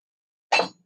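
Green glass candlestick holders knock together in one brief, bright clink up close, followed by a short fading ring and then quiet.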